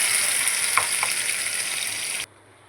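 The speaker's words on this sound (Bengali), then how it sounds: "তো প্যানে না সর্ষের তেল দিয়েছি, তো কড়াইতে একটুখানি এটা ভেজে নেব" Green banana peel paste frying in mustard oil in a kadai, giving a loud, close, continuous sizzle with a couple of small pops before it cuts off abruptly near the end.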